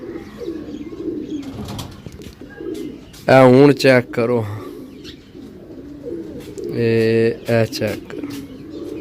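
Sialkoti pigeons coo in two loud, close bursts of rolling, throaty calls, with someone speaking between and around them.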